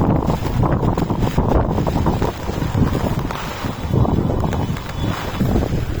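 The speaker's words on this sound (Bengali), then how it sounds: "ছাতাটা একবার দেখুন বাতাসে কি করতেছে।" Strong wind from Cyclone Remal sweeping Dhaka streets, a loud continuous gusting roar with buffeting against the microphone, rising and falling over the whole stretch.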